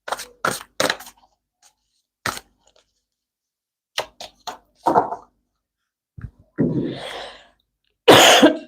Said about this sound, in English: When I start coughing like this